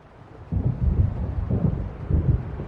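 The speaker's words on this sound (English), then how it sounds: "It seems there's a storm coming." Deep rolling thunder of an approaching storm in the Alan Wake game, a low rumble swelling in repeated waves over steady background noise, with no speech.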